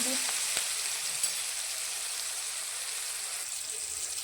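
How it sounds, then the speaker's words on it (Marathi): A dal tempering sautés in a pan over a low flame, giving a soft, steady sizzle with a few faint clicks near the start. "एक 2 मिनिटं बारीक गॅसवर परतून घेऊया."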